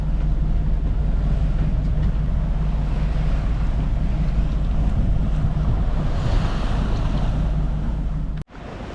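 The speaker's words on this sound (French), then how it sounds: "le vent s'est levé" Wind gusting at sea aboard a sailboat off Gruissan, a loud steady roar of wind buffeting the microphone over washing waves, continuous for several seconds before a brief sharp dropout near the end.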